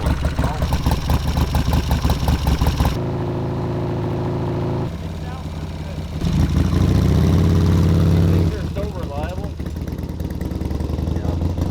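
Kawasaki Ninja motorcycle idles just after starting, a steady low engine hum that shifts in level between sections, with people talking over it.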